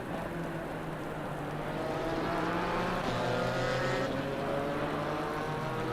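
Porsche GT4 race car at the Nürburgring in a racing game, its engine droning steadily throughout with harmonic tones shifting in pitch as it revs, loud and continuous with no talk.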